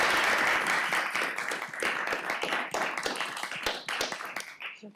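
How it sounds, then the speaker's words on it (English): At a city council meeting, a room full of people applauds; thick clapping starts loud, then thins into scattered individual claps that fade toward the end. "let's give them a final round of applause"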